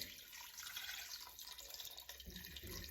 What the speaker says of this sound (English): I'm going to add 6 cups of water, and I really want to just cover this chicken up